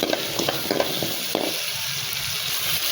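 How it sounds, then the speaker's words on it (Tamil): Onions sizzle and fry in a little oil for a cauliflower gravy, a loud continuous hiss with a few stirring scrapes early on, close and alone. "லைட்டாக கொஞ்சம் எண்ணெய் ஊற்றிக்கோங்க. வெங்காயம் போட்டு நல்லா வதங்கட்டும்."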